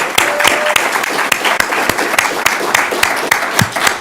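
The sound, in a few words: audience applause for a grant award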